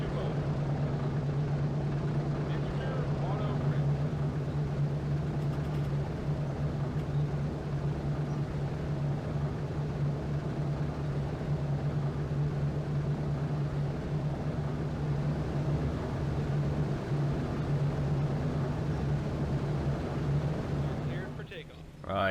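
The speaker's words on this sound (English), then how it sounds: "We are just one of a number of aircraft firing up." Droning piston engines of a B-17 Flying Fortress bomber in a flight game, a steady low hum running continuously near and loud as other aircraft start up, tailing off briefly at the end.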